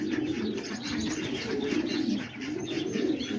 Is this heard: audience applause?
no